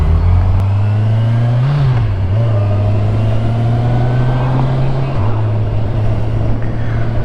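A Kawasaki Z1000SX motorcycle engine pulls hard under acceleration, its steady loud drone dipping briefly at clutchless upshifts before climbing on, heard up close over constant wind noise.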